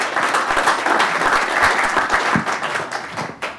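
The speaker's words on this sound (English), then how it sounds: "a round of applause starting here on my left" An audience at a running-race press conference breaks into steady, dense applause that holds for several seconds, then begins to thin out near the end.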